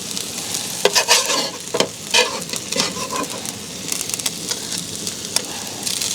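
Rice being cooked while camping, sizzling in a pan as a utensil stirs and scrapes it, with irregular close scraping strokes over a constant frying hiss.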